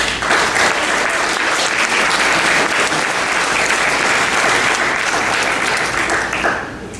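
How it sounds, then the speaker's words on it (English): Loud, sustained audience applause at a fifth-grade school awards ceremony, a dense continuous roar of many hands clapping that fades out in the last second. "he needs a big round of applause"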